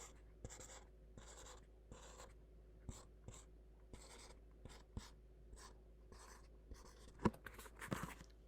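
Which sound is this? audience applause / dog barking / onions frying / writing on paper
writing on paper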